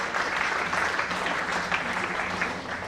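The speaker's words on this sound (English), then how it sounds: "a round of applause for Neelam Ben" An audience applauds in honour of Neelam Ben, a brief, steady patter of many clapping hands at moderate volume for about three seconds.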